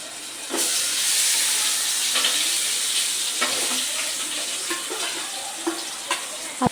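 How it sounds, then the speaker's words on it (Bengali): Chicken pieces and onions frying in hot oil for a home-cooked chicken curry, a loud, steady sizzle and hiss with occasional clinks and scrapes from stirring, and no talk. "তেল দিয়ে দিল, এখন পেঁয়াজটা ভাজা হোক।"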